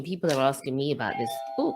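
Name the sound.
doorbell ringing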